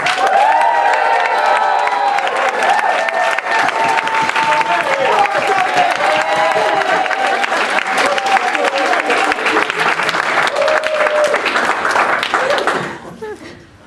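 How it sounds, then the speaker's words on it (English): Wedding guests applaud and cheer for the groom Jonathan as he rises to speak, a dense, steady wash of clapping with whoops and voices running nearly fourteen seconds before fading. "Let's give him a round of applause"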